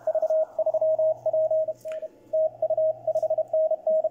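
A CW Morse tone from a Malahit clone SDR receiver with its filter narrowed, keyed in a steady rhythm of dots and dashes over a faint background hiss and a low hum.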